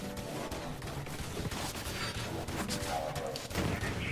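Rapid gunfire and explosions crackle through a Borderlands 3 fight, loud and continuous with dense bursts, partly mixed with game effects and a voice.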